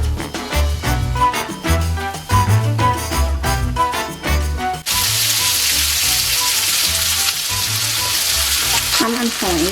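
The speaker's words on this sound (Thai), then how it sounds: "ใส่หอมใหญ่ลงไป ผัดให้ผักสุกนิดนึงนะคะ" Onion and vegetables stir-frying in a pan: loud rhythmic tossing and scraping with sizzle for several seconds, then a dense, steady sizzle with scattered spattering.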